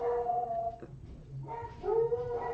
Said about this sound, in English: Oh, what is she barking at now?